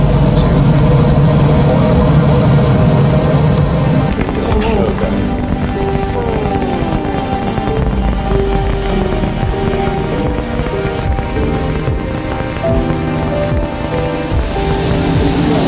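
SpaceX Starship's Raptor engines ignite at launch of an integrated test flight, a loud, dense, continuous roar that fills the whole stretch without letting up.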